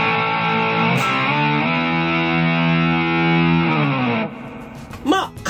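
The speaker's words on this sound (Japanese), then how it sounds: "こちらが歪みですね。" An electric guitar played through a distortion pedal rings out a sustained, lightly overdriven chord for about four seconds, loud and close, then cuts off into a few quieter picked notes.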